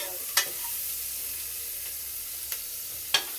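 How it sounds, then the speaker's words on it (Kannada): Onions fry in oil with a soft, constant sizzle, broken by three or four brief scrapes of a spoon stirring the pan. "ನೋಡಿ ಗಾಯ್ಸ್, ಈ ಥರ ಎಣ್ಣೆಲಿ ಚೆನ್ನಾಗಿ ಫ್ರೈ ಆಗಿದೆ ಈರುಳ್ಳಿ"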